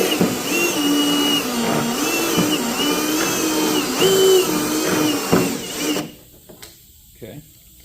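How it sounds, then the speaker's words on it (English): Power drill boring holes through a Pontiac Trans Am rear quarter panel to mount the rear bumper, a loud continuous whine with slight pitch wobbles for about six seconds, then stopping into quiet shop noise and brief clicks. "So now that we have that, those holes drilled"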